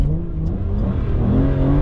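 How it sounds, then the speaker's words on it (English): An Aston Martin DBS accelerates hard, a loud, close engine roar that builds steadily with rising pitch over a couple of seconds, heard from inside the car without any talk. "let's accelerate here one time."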